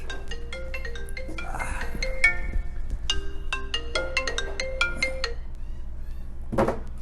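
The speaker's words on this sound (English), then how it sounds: "Unknown caller. I'm not gonna answer this." A mobile phone ringtone from an unknown caller plays over a steady low hum, a loud, repeating melodic electronic tone lasting several seconds in an indoor pub setting, with a brief thump near the end.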